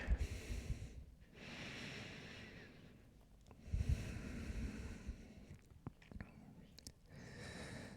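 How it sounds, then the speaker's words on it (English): Gentle yoga breathing in a resting pose, slow soft breaths in and out through the nose, close and quiet, with two long inhale-exhale cycles and a few small clicks. "Taking gentle breaths in and out here."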